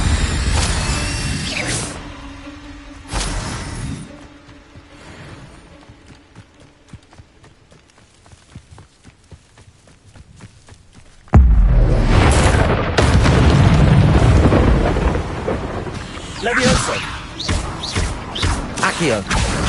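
A fire spell cast in the Hogwarts Legacy video game, heard as a sudden loud whooshing burst of game effects that kicks in partway through and roars on, following quieter stretches of game sound with a voice speaking.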